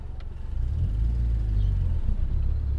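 A Mitsubishi Eclipse engine idles and runs at low RPM in a misfire condition, a close heavy uneven low rumble with an irregular lumpy pulse rising slightly after the first half-second, no talk.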